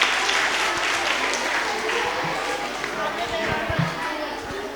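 Loud, sustained applause from a room of schoolchildren for the teams at a standard 4 and 5 quiz competition, dense clapping filling the whole stretch with some crowd noise.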